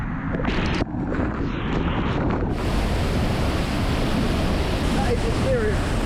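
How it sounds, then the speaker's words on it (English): Jungle waterfall in the Amazon rainforest, a loud, close rush of falling water mixed with heavy wind buffeting on the microphone, steady throughout. "So this waterfall, allegedly, is 5 times bigger than the one we just walked through."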